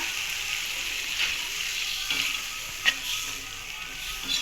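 Tamarind kulambu with bottle gourd bubbling and sizzling steadily in a pan as water goes in, a continuous hiss with a few faint clinks and splashes, no talking.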